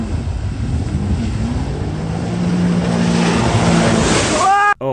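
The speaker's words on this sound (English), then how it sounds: "I also found this funny clip of Islam jet skiing" A jet ski skims over open water, its engine droning steadily under broad wash and spray noise, close and loud throughout.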